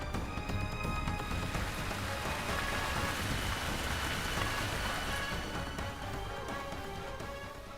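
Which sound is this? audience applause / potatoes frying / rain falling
rain falling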